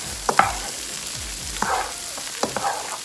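Glazed salmon with Cajun seasoning browns in a hot pan, a soft steady sizzle broken by a few sharp utensil scrapes and taps, close by, with no one speaking.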